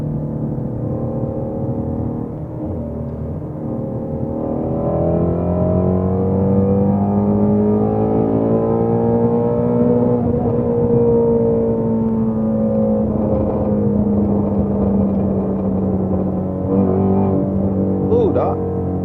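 Ford Mustang GT350 engine revving hard while driving, a loud sustained exhaust roar with rising and falling pitch, continuous through the whole stretch with a few sharp pops near the end.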